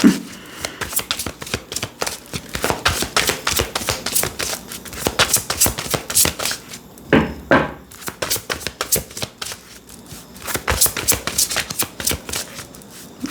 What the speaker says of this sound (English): This deck has become so challenging for me to shuffle these days.